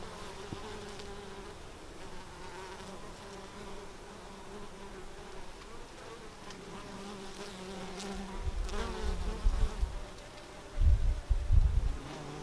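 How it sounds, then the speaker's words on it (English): Steady buzzing of several bees around flowering oregano close by, droning continuously with rising intensity and a few louder passes near the end; no voices. "there's plenty of other happy bees here"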